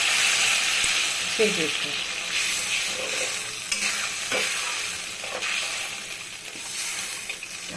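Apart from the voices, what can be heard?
hot water added to fried spices in pan for pabda fish curry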